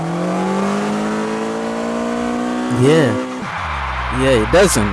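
Engine note from a car in the mobile driving game Car Parking Multiplayer, a steady drone climbing in pitch, then short sharp revs near the end, heard beneath someone talking.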